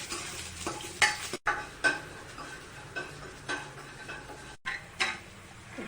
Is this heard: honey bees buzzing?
no